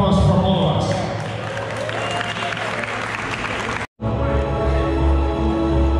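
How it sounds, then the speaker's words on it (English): Audience at a multicultural pageant in Ottawa giving a loud, sustained round of applause, dense continuous clapping with crowd noise, briefly cut off near the end before resuming. "I need a round of applause for all of us."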